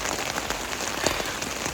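Rain falling steadily on a mountain trail along the Appalachian Trail, a dense close patter of drops with occasional sharper splashes, no voices.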